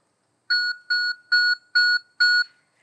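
Custom alert beep built as a driver warning in a mixed reality driving setup: five evenly spaced, sharp electronic tones in a quick row, clean and alone against silence.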